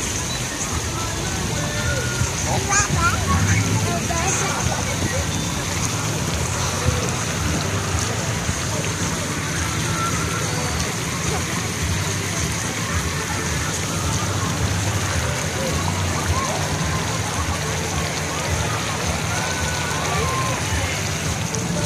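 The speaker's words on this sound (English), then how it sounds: "it's a little bucket that dumps water" Water pouring and splashing from a dumping bucket on a pool water-play structure, a continuous rushing spatter with occasional louder gushes, heard under people talking nearby.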